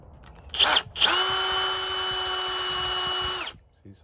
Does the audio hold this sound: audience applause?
no